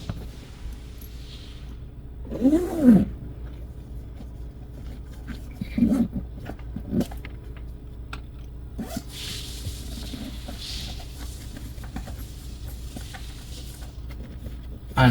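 A zipper on a Honda Accord seat cover is pulled in a few short, raspy bursts amid quiet rustling and handling noises, close up with no talking.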